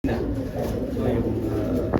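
Racing pigeons cooing in a loft, a steady low throaty cooing close by with a faint background hum, brief and continuous.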